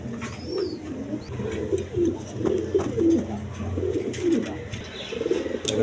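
Pigeons coo repeatedly at a farm where healthy birds are kept in pairs, soft throaty calls rising and falling in a steady overlapping rhythm, with occasional higher chirps above a low background hum.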